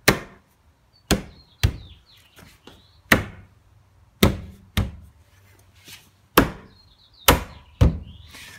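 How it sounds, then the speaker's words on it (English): Plastic door molding clips on a 1999–2005 BMW being struck hard into place with a fist, giving about ten sharp, loud knocks at uneven intervals, each dull thump followed by brief quiet. "I push them hard with my fist. I hit them real hard, and then they clip into place."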